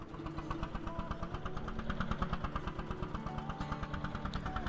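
Tractor engine driving in Farming Simulator 22, a steady, rhythmic mid-pitched chug with regular pulses, running evenly and alone without any talk.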